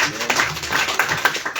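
A church congregation claps for their pastor in a quick burst of scattered, close applause, mixed with voices speaking over it.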